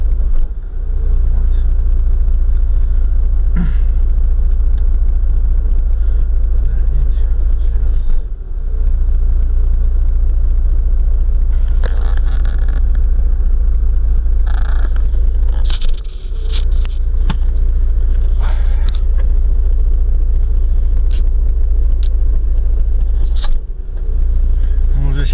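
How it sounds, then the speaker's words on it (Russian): The engine of a Chrysler Voyager runs rough with a steady low rumble that stumbles several times, with short dips and scattered ticks and patters over the drone. "Сейчас я на газ нажму, наверное, оборота не будет уже."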